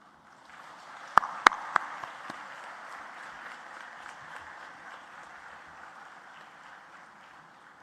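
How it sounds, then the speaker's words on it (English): A graduation convocation audience at Lincoln University College applauds in a steady, dense wash of clapping for about eight seconds, with a few sharp, louder claps standing out near the start before the sound evens out and slowly thins. "Please bow down and give a big applause."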